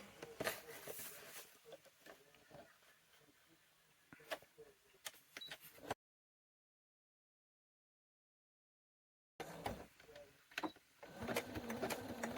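A sewing machine stitching through paper gives short bursts of rapid mechanical whirring and clatter, close and fairly quiet, broken by a stretch of total silence before stitching resumes.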